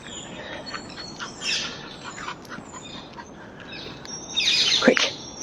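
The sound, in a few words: birds chirping and calling to each other in a garden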